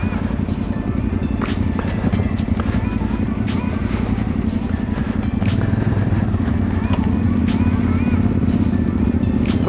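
A 1990 Honda Africa Twin motorcycle rides off-road on a dirt trail, its engine droning steadily and loud up close, with bumps and rattles and people talking over it throughout.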